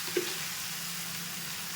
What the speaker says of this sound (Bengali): কচু আর আলু দুটোই দিয়ে দিচ্ছি। ভালোভাবে মিশিয়ে নিচ্ছি।